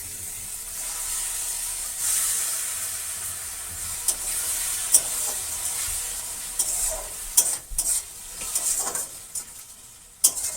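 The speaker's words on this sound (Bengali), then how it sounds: "পেঁয়াজগুলো একটু নরম হয়ে গেছে, ওর মধ্যে দিয়ে দেবো এই আদা রসুন আর টমেটোর পেস্ট।" Ginger, garlic and tomato paste sizzles as it goes in with softened onions for Bengali aloo dum, a steady hiss of frying under occasional sharp clacks and scrapes of stirring, close, with no talking.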